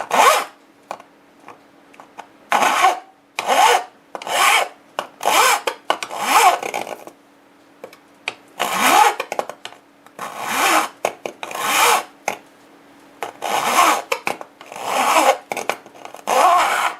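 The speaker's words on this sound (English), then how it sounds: "When it comes to filing, part of the secret is to have a good, sharp file." A sharp hand file rasping across a workpiece, heard up close in a series of loud, scratchy strokes, short bursts with uneven pauses and a faint steady hum running underneath.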